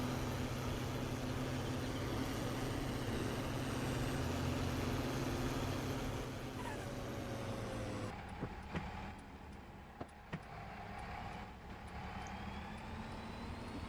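Tractor engine driving in Farming Simulator 22, a steady low drone that holds for several seconds before dropping to a quieter, thinner running tone with a few brief knocks.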